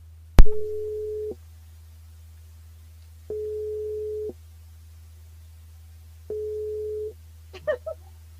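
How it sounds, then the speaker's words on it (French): Calling a radio station switchboard produces three evenly spaced, steady telephone ringback tones, each lasting about a second with gaps between, over a low hum. A brief click opens the sequence and a couple of short blips follow at the end. "on appelle Elisabeth sur le standard pour un débriefing en direct"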